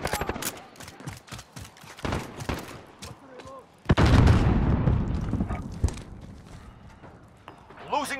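Bursts of gunfire and heavy booms in Call of Duty: Modern Warfare, with sharp shots scattered throughout and a large blast midway, under frequent radio-style voice callouts.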